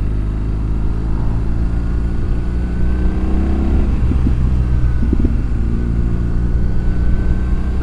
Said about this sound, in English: I am on Jeff's BMW GS